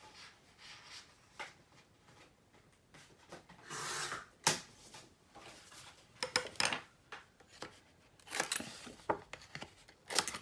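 Scissors trimming a paper insert for a handmade mini album, with scattered crisp snips and brief rustles of the paper between quiet pauses, fairly close.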